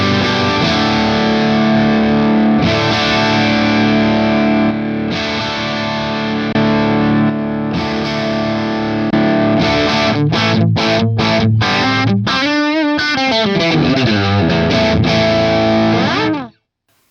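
Distorted electric guitar run through a Two Notes Torpedo and blended with an SM57 microphone. Loud sustained chords give way to rapid choppy stabs and a swirling effected passage, then stop abruptly.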